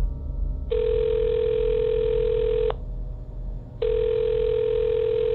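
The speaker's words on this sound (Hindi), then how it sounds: "फिर सोचते हुए उसने नंबर डायल कर दिया।" Two long, steady telephone tones sound in sequence, loud and clear, with a short gap between them over a faint low hum.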